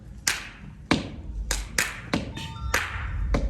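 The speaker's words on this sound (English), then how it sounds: "So we did soul clap to start the class." Sharp hand claps in a steady soul clap rhythm open a locking dance class, about seven crisp, roomy claps spaced roughly half a second apart, loud and unaccompanied.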